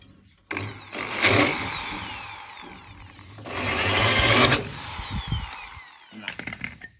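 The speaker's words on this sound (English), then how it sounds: "That's a little chisel I'm using too." A power tool drives a small chisel cutting the rusted steel sill of a 1974 Holden HQ sedan, whirring in two long bursts with gritty metal-on-metal grinding and scraping, followed by short clattering taps.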